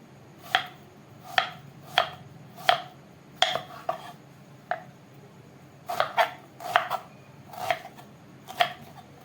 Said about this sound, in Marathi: कांदा सोलून घेतला, मस्त बारीक चिरून केला.